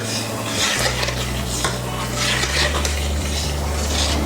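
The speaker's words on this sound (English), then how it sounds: "Taking this off the heat, our Giouvarlakia soup, adding gently our egg lemon mixture." An egg-lemon mixture is gently stirred into a pot of Greek giouvarlakia soup just off the heat, with soft scraping and clinking of a utensil against the pot over a low steady hum.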